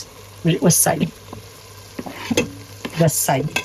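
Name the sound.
onions and berbere frying in a pan for misir wot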